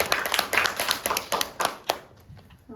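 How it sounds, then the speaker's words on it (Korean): Kindergarten children clap together for a classmate in a classroom, a quick ragged burst of many small hands that fades out after about two seconds. "발표해준 고은이한테 박수."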